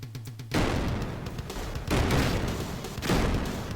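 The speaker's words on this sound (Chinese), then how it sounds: "这里我开枪了" Bursts of gunfire from the side-scrolling military action game Green Beret 2, coming as three loud, dense volleys in close succession with no talk.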